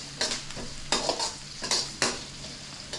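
Pan stirring and sautéing after mustard-seed tempering for a lentil-ball kuzhambu curry: a soft sizzle with several distinct spatula scrapes against the pan at irregular intervals, close up and with no talking.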